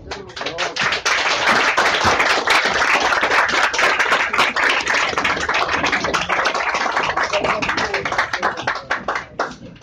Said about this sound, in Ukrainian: Я дякую за оплески, але Франкові не передам, вибачаю.